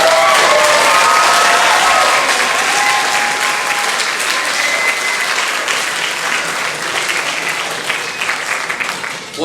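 Audience applause for student musicians at an instrumental spring concert, a steady, dense clapping that fills the hall from start to finish and slowly thins toward the end.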